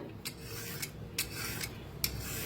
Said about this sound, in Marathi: आता दोडकं किसून घेऊया।